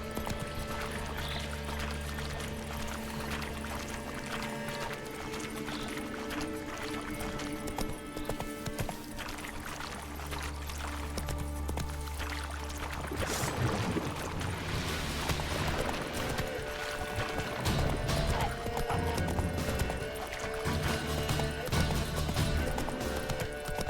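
Roach, the horse in The Witcher 3, gallops with a steady, close clip-clop of hooves that carries on throughout over a continuous musical background.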